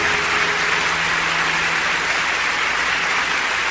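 Church congregation applauding, a dense, steady wash of many hands clapping at once that fills the space evenly from start to finish, with no speech over it.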